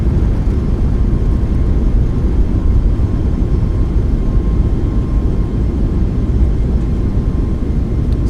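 A simulated iFly 737 MAX airliner in Microsoft Flight Simulator decelerating on its landing rollout, a steady loud broadband engine and rolling roar holding constant throughout with a faint thin whine above it.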